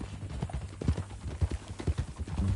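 Horse hooves clip-clop at a steady walking rhythm in Red Dead Redemption 2, close and moderately loud, with faint background ambience and no voices.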